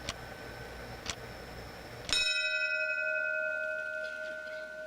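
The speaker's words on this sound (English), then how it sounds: "The ringing of the bell that you just heard symbolizes the exact time that the South Tower of the World Trade Center collapsed." A memorial bell rings out, with two softer strikes and then one loud strike whose clear tone hangs and slowly decays into quiet, alone without voices.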